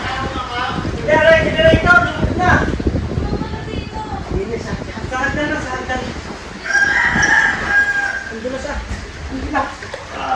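A rooster crows loudly nearby while chickens cluck, with people talking over and between the calls.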